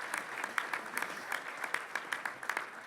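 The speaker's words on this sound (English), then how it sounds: "please join me in a round of applause as we welcome our students and thank their sponsors" An audience at a Detroit Economic Club event claps to welcome students, a steady patter of moderately loud, fairly sparse claps that holds evenly throughout.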